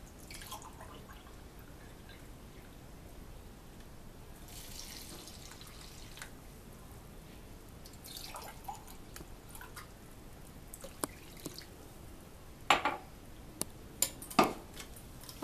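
Water is poured into a sattu lassi mixture of sattu flour, black salt and roasted cumin, a faint soft trickle and splash followed by a few drips and clinks of utensils near the end, quiet and close, with no talking.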